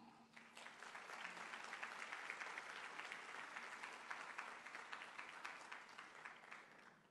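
A crowd applauds steadily for several seconds at a university convocation, a dense wash of clapping heard from some distance that tapers off at the end.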